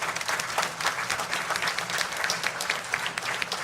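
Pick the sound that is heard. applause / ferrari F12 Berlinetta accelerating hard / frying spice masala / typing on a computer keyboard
applause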